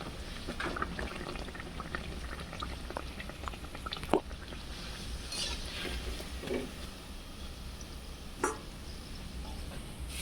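Naan puri deep-frying in hot oil, with a steady, even bubbling sizzle that carries through the whole stretch. It stays fairly faint, with a few small clicks and knocks and no talk.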